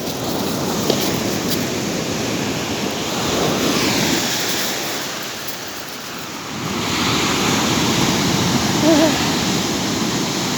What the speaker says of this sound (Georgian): ტობი ნახე ამ აბა წყალში ჩავიდი